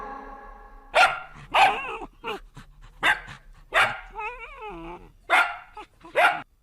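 A dog barks in several separate bursts, some with growly and yelping tones, with gaps between them and a musical backing line running underneath.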